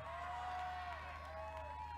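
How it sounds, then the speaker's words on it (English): Spectators at a youth recurve archery gold-medal match cheer and clap, a short burst of crowd noise at moderate distance. "Crowd starting to pick up the volume at the same time"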